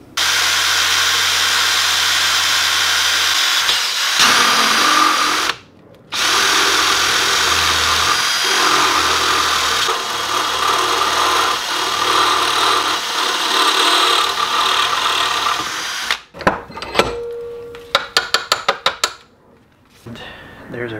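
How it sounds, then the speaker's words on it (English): A power drill drilling holes in a metal bracket whines steadily through long stretches, cutting out briefly, then several short sharp bursts follow near the end. "And there's the two holes we need to drill."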